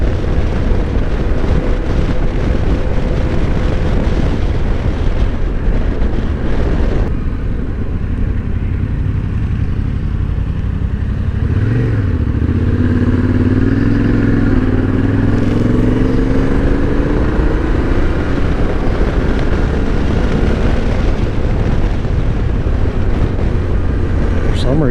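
A 2021 Yamaha Ténéré 700 motorcycle on a demo ride drones loudly and steadily under constant wind rush, its engine note climbing and falling through gear changes midway, with occasional speech beneath the roar.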